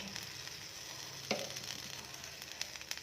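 Tomatoes hitting a hot pan with a bread omelette, a steady broadband sizzle running throughout with one sharp clatter near the middle and a few faint taps later; no talking.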